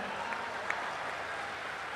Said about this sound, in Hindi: 50-60 लोगों ने ताली बजाई है